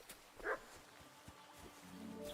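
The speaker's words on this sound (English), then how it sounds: "I hear a puppy." A puppy in a video game gives a brief, faint yelp or whine, heard once amid quiet ambient game sound.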